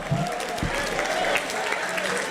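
Brief burst of steady audience clapping for graduates at a senior awards ceremony, with a few low voices murmuring underneath the crowd applause.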